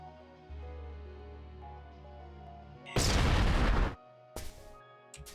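A grenade goes off in the sci-fi roguelike Approaching Infinity as one loud, broad blast, followed by a shorter second burst, both rising over a tonal game music backdrop.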